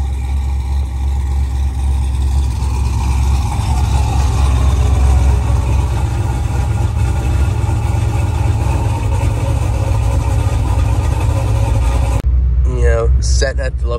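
A truck engine runs loudly in a garage with a deep, steady rumble throughout. It cuts off near the end, just before a voice is heard.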